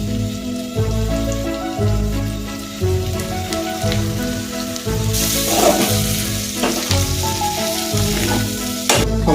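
Chili powder being stirred into ridge gourd curry frying in a pan: a steady loud sizzle broken by rhythmic scraping strokes of the spoon, with no talking.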